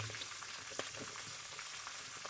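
Curry leaves and green chilies sauté in hot oil for chapati egg podimas, a steady, close crackling sizzle that continues unbroken through the short stretch.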